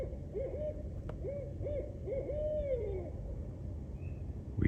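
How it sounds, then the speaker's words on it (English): An owl hoots at night near a tree line, a series of soft, fairly distant hoots in an irregular rhythm over a quiet, low outdoor background. "We hear the owl greeting us"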